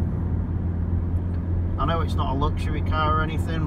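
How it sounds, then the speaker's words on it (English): Steady low tyre roar from the road fills the cabin of a Toyota C-HR Hybrid on 18-inch wheels while it is driven, continuing under someone talking throughout. "There's more tyre noise than I expected there to be from this car."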